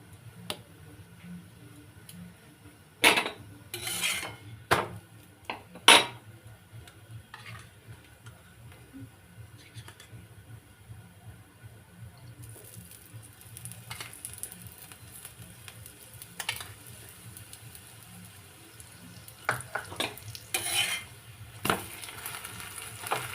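Aloo paratha frying in a pan gives a soft, steady sizzle, punctuated by sharp scraping clacks each time it is turned.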